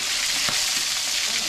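A fish head frying in hot oil gives a loud, steady, close-up sizzle that runs throughout without a break.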